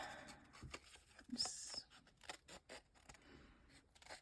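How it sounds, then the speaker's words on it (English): Scissors cut paper for a junk journal page from an Arctic Foxes craft kit, giving quiet, close snips and scratchy paper rustles in a short irregular sequence. "And then I'm just going to cut this off on this side."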